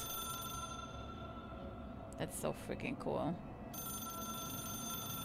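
An old-style telephone bell rings steadily and loudly in the video game Control, a continuous metallic trill that drops away briefly while someone speaks excitedly over it, then resumes.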